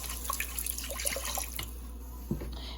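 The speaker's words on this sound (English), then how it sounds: "and then 1 cup of plain water. Add my water." Plain water poured into a pot of seafood rice gives light, irregular splashing and dripping at low volume, trailing into a few quieter drips.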